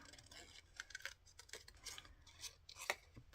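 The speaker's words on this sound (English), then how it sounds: "I'm going to cut that out." Scissors cut paper for a junk journal, a quiet close series of irregular snips and rustles.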